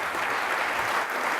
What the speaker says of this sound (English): Give him a round of applause, Michael McQueen.